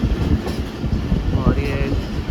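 A passenger train at a railway station in Pakistan, a loud continuous rumble with faint wheel squeals, while a voice talks over it.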